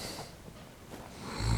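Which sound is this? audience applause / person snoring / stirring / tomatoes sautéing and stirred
person snoring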